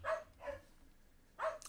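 Dogs bark indoors in short sharp bursts: two quick barks, a pause, then another bark, moderately loud and close, with no talking.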